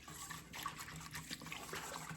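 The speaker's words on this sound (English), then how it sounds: "I'm just going to take a little whisk and I'm just going to give it a stir to dissolve the sugar." A small whisk stirs sugar into water in a bowl while pizza dough is being made, giving soft, quiet swishing and sloshing liquid sounds in a gentle repeated rhythm, with no talking.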